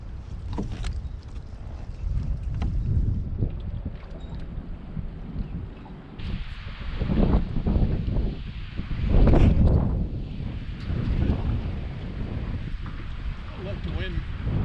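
Wind gusting across a lake during bass fishing from a boat, a steady rushing blow with buffeting on the microphone and some water movement, rising in strength partway through, with someone talking over it.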